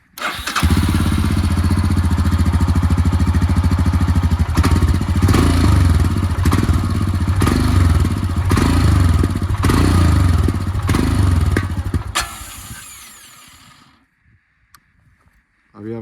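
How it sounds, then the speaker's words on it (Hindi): A 2021 Royal Enfield Himalayan 411 fuel-injected motorcycle engine idles through a long exhaust silencer with a deep, steady, throaty rumble and slight clatter, loud and close, then cuts off and falls silent near the end. "साइलेंसर, इसकी आवाज़ सुनिए आप"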